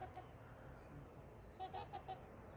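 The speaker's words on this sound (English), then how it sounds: "Trumpeter swans right here in front of the cabin." Two pairs of trumpeter swans in front of a log cabin in Montana, giving a few faint, distant honks in a short cluster toward the end over quiet outdoor ambience.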